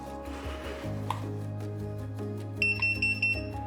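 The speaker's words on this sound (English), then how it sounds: "as you can hear from the slight beep, it is now paired into the extender." A HESTIA smart home security control panel pairs an entry sensor through an extender, and a short series of soft electronic beeps rises late in the clip over a low background hum.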